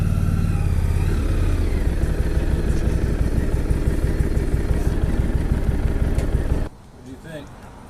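A Harley-Davidson Street XG500 motorcycle runs loud and steady up close for most of the clip, its engine note dense and unbroken, then drops away sharply near the end to a faint low rumble.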